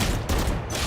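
Rapid bursts of gunfire from the tactical shooter game Valorant during a pro match broadcast, dense and loud, with shots packed closely together.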